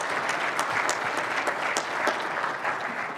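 An audience at an economic outlook event applauding, steady dense clapping from many hands at close range, alone and even in volume throughout.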